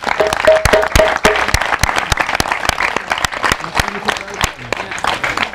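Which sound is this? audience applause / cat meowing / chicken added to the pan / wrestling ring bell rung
audience applause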